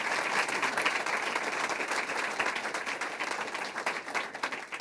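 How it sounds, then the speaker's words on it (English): An audience applauds at a dedication ceremony honoring a scholarship fund supporter, steady dense clapping sustained throughout at fairly close range with no talking. "Let's give him another round of applause."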